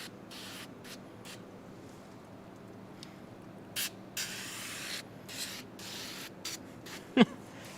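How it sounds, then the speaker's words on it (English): Water sprayed from a spray bottle while window tint goes onto a Kia K5: a series of brief hissing bursts at irregular intervals over a low steady background, with one sharper knock near the end. "It's extra exciting because it's more water we're going to be spraying."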